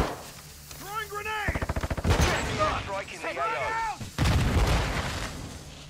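Call of Duty combat with rapid machine-gun bursts, heavy booming blasts and explosions close and loud, while voices call out over the fire.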